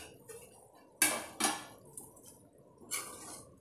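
A lid set down on a pan of black chicken fry, giving two sharp metallic clanks close together, then a lighter knock and a final rattle, with quiet kitchen sizzle between.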